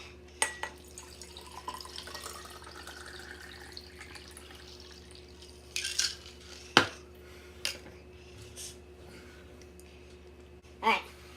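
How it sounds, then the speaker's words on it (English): A cocktail being mixed: faint clinks of glass and metal utensils with light liquid pouring and dripping, a few sharper taps standing out against a quiet room background. "mix my cocktail for the night."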